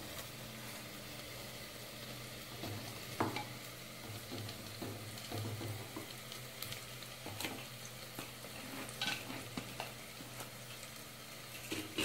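Masala sizzling and frying in a clay pot, a soft steady crackle with occasional stirring scrapes and clicks, quiet and close.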